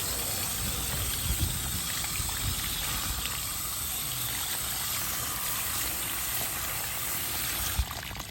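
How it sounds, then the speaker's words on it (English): Cold water streams steadily over a K&N air filter during rinsing, a continuous close hiss and splash with no pauses, moderately loud. "Nice cold water, nothing too strong. You don't want to damage the filter either."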